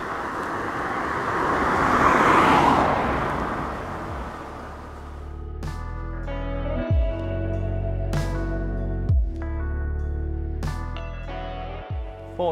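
A single car passing on a mountain road climbing Alpe d'Huez: a broad whoosh swells and fades over the first few seconds, followed by quieter outdoor ambience with intermittent clicks and knocks.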